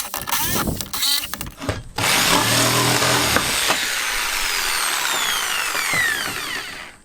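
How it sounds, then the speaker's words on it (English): Jigsaw cutting tongue and groove wall sheeting, starting with a few short stuttering bursts, then a sustained loud buzzing cut of rapid blade strokes that tapers off at the end. "And then finish it with the jigsaw."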